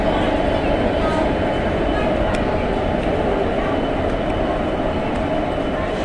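Shalimar–Badampahar–Rourkela express with ICF coaches running, a loud steady rumble of wheels and carriages rolling close by, with no break in the noise.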